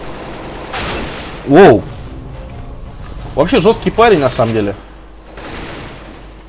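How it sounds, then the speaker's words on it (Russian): Short bursts of PP-Bizon submachine gun fire in the video game CS:GO crackle in brief volleys, partly under someone talking. "Бизон. Для меня привычная пушка."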